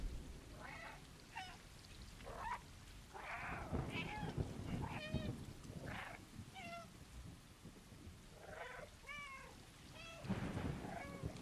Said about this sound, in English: You just press a button and it'll meow.